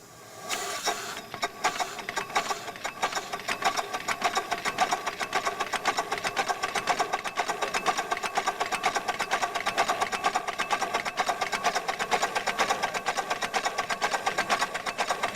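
Rapid, steady chugging of a small air-driven model steam engine, a fast mechanical puffing rhythm that runs evenly throughout without voices.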